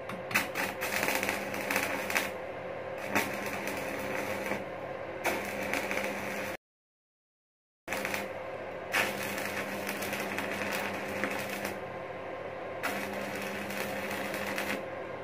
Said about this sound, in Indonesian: Dan ini las di skala 100 ampere,